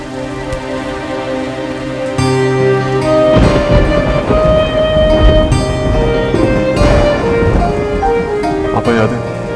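Steady rain falling through a night thunderstorm, a continuous dense patter that swells louder partway through, with a musical score and tonal background layered over it.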